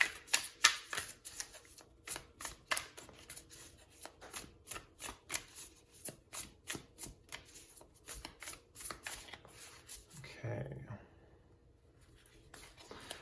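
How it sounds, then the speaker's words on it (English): Animal oracle cards being shuffled close up in a quick rhythmic series of soft riffling slaps, then stopping, with quiet speech. "I'm gonna pull some animal oracle cards for your 2 people, who they're like and who you'll marry."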